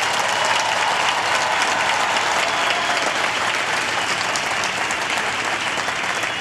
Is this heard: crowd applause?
yes